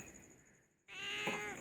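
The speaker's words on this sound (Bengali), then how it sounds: "কাকা ডাকছে, কাকা কাকা ডাকছে" A single crow gives one harsh, drawn-out caw after a short near-silence. It sounds moderately close and stands alone over a faint background hum.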